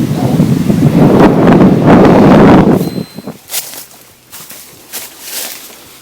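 Heavy wind buffets the microphone on a rock outcrop above Cave Run Lake in Daniel Boone National Forest with a loud, low roaring rumble for about three seconds, then drops to gusty, uneven rustling and bursts of hiss.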